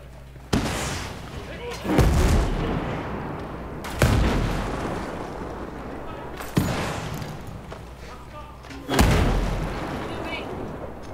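Five heavy booms from rocket explosions in Ghost Recon Breakpoint hit at irregular intervals, each followed by a rumbling tail, with crackling game gunfire filling the background.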